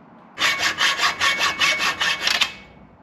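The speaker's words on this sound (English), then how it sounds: "I'm gonna cut off a section of tubing that's this width" A hand saw cuts a section off metal tubing in about ten quick, even back-and-forth strokes, close and loud, before it stops abruptly.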